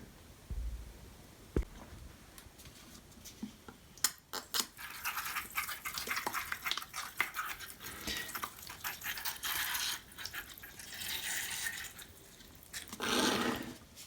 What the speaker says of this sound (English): give the moss another good rinsing, just to be on the safe side